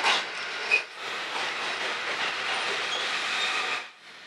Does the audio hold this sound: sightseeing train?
yes